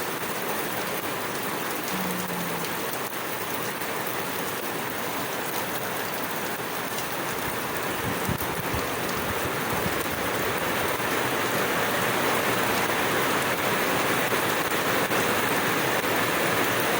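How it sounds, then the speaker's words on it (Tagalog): Steady, dense rain falls on a wet morning, a constant close hiss of drops on surfaces that holds evenly throughout with no voices. "Maulan ang umaga natin ngayon"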